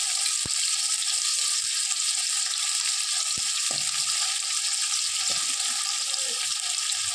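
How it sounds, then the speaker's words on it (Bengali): Pumpkin, potato and radish pieces frying in a pan, a steady bright sizzle with a few sharp clicks and soft stirring knocks, no one speaking. "শক্ত সবজিগুলো আগে ভেজে নিয়ে তারপর শাকটা দেবো"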